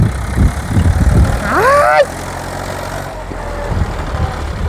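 A tractor and a JCB machine working at a farm well run with a steady, loud mid-pitched engine rumble nearby, with a brief rising mechanical whine partway through and people talking over the engine noise.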